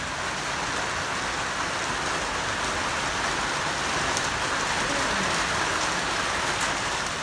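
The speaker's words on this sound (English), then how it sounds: "And it has been raining for ages." Steady rain falling during cold Australian weather, a dense continuous hiss of drops on surfaces, even and unbroken throughout with no voices.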